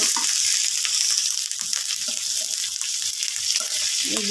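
Rui fish fries with ginger paste, onion paste, turmeric and spices in a pan, a loud continuous hiss of oil with soft stirring scrapes throughout.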